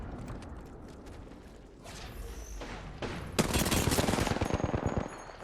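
Apex Legends gunfire, a steady rapid-fire burst from an automatic weapon such as the Flatline that starts partway through and runs for about two seconds, with mechanical clicks and shuffling before it.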